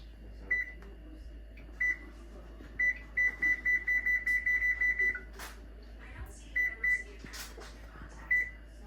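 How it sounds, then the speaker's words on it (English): A kitchen oven's control panel beeps as it is set to preheat to 300 degrees, a close series of short electronic beeps, single at first, then a quick run of a dozen, then a few more, with low voices and small kitchen clatter behind. "we're going to preheat our oven and put it on 300 degrees"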